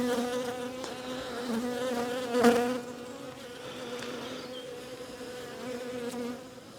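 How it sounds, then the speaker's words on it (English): Steady buzzing of many honeybees in a beehive, a dense continuous drone with a brief louder swell partway through, close by. "There's a few bees in here."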